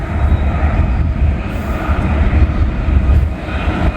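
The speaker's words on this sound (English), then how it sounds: "we got a train coming" Freight train of old gondola cars hauling steel slabs, rumbling steadily with a loud low roar near an old railway bridge, no talk.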